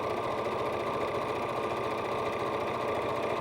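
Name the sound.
sewing machine stitching quilt fabric blocks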